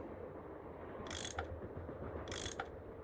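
Ratcheting tool unscrewing bolts in the Nancy Drew game Last Train to Blue Moon Canyon, two short bursts of mechanical clicking about a second apart over a low steady hum, fairly quiet with no talk.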